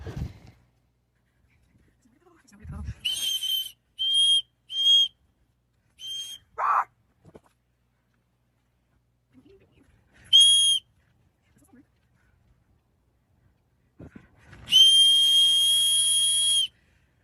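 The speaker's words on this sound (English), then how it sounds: "uses her whistle." A shrill whistle is blown in several short bursts separated by silence, ending with one long sustained blast.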